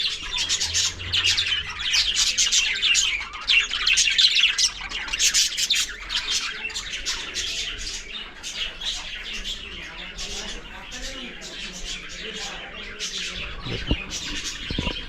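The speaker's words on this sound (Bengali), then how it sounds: "এখানে পাখি রাখা রয়েছে" Kept birds chirping and squawking in a dense, continuous chorus at the old home of Sarat Chandra Chattopadhyay in Deulti, fairly close, with a few coos and scattered louder calls throughout.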